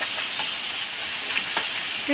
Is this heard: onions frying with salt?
yes